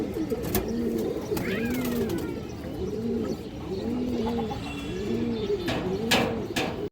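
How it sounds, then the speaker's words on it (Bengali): A large male pigeon with a khaki-colored neck coos in repeated rolling phrases, about six cycles in a steady rhythm, close and clear, with faint chirps from other birds in the background. "খুবই সুন্দর একটা খরা গলা নর কবুতর"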